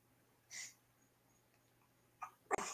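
A few quick, breathy sneezes, small and soft, with a short one early and a sharper pair near the end against a quiet background.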